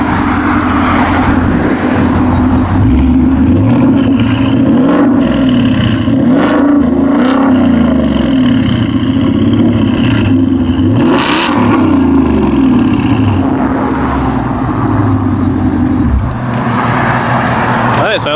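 2018-2020 Ford Mustang GT V8 with an MBRP race catback exhaust, revved repeatedly up close over a deep, loud idle rumble, each blip rising and falling, with people talking over it.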